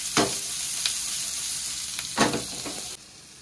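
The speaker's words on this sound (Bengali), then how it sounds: "পেঁয়াজ আর বেগুন ভালো করে ভাজা ভাজা করে নেব।" Onion and eggplant fry in a pan with a continuous crackling sizzle, broken by several sharp scraping stir strokes and clinks at irregular intervals, close and fairly loud, before the sizzle drops away near the end.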